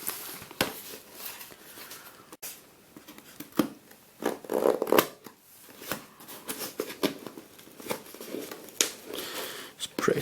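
Tough duct tape being pulled and cut away from an eBay package, a run of crinkly tearing, ripping and scraping noises close up, quiet and irregular, with soft handling sounds between.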